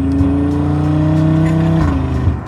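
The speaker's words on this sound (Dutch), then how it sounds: "je hoort gewoon de turbo zuigen in de uitlaat" A tuned 640 hp RS3 widebody engine runs at steady idle with a low, droning hum and faint whooshing turbo intake sounds, close and continuous.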